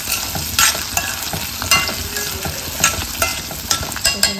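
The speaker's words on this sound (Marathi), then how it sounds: "बटाटा आहे ते फ्राय करून देते" Potatoes fry and sizzle in a pan as they are stirred, with a steady hiss broken by scraping and stirring bursts at an irregular rhythm, close up and with no talking.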